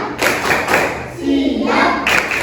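A primary school class claps a short patterned 'tepuk siap' rhythm in a classroom, with a few sharp bursts of hand claps and thumps and children's voices calling out between them.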